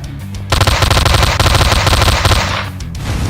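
A gun firing rapid automatic bursts at spiders in the horror game Slendytubbies 3, loud and close, with a dense, even rattle of shots lasting about two seconds before it cuts off.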